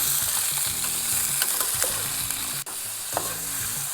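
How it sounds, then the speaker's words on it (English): Pork belly sizzles steadily in a pan at a camp stove while a utensil stirs it in rhythmic scraping passes, loud and close, with no talking. "So what I'm aiming to do is just caramelise the pork and render off some of the fat."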